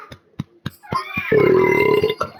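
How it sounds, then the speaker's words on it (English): A long, loud, throaty burp right up close, rising after a few soft clicks and lasting nearly a second before trailing off, with no talk over it. "I got a burp."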